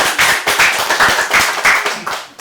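Audience applauding at a Korean Buddhist leadership lecture on climate and water management, a short burst of brisk, fairly loud hand clapping with a steady patter, no talk.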